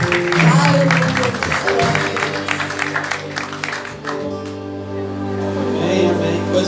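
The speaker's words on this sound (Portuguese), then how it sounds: "Dê mais um aplauso ao Senhor." Congregation at a church festival gathering claps loudly and steadily for several seconds over sustained music, with the crowd noise tapering as the tones continue.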